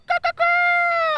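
A human voice imitates a chicken during a Brazilian TV show segment: two short clucks followed by a sustained, high-pitched rising cackle, loud and close, with no other sound around it.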